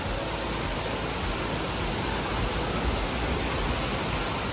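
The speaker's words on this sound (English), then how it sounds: "We're going to the aqua park." Rushing water fills a water park with a loud, steady broadband roar, constant and close, with no voices standing out.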